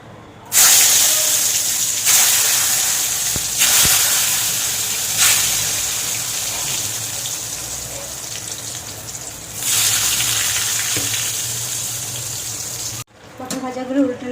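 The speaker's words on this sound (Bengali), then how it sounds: "এবার পটলগুলো ভেজে নেব।" Pointed gourd pieces coated in salt and turmeric hit hot oil in a wok, setting off a loud, sustained sizzle and hiss that swells in waves when more pieces go in, then stops abruptly near the end.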